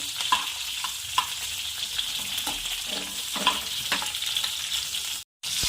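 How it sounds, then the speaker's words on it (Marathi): Large farm-grown green chillies fry in a pan with a steady, close sizzle and crackle, punctuated by a few stirring scrapes and pops, briefly cutting out near the end before resuming. "छान थोडं फ्राय होऊ द्यायचं आहे मोठ्या मोठ्या मिरच्या आहे शेतातल्या आहे"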